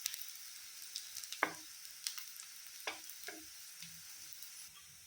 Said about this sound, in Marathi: गॅसची फ्लेम कमी करून फ्राय करायचं